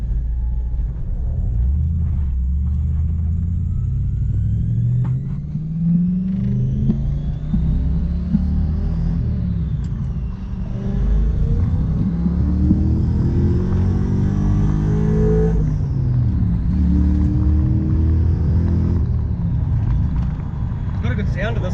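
A Toyota Hilux double-cab ute with a 1UZ V8 and Gilmer belt drive revs up and down. A deep engine rumble carries a rising and falling belt whine, close and loud, and someone talks over part of it.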